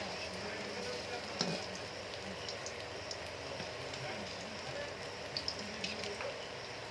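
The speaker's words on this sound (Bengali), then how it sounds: "দুই থেকে 3 মিনিট এভাবে আস্তে আস্তে ভেজে নিতে হবে।" Crab fritters shallow-frying in oil, a soft steady sizzle with faint bubbling and a few small pops, quiet and continuous throughout.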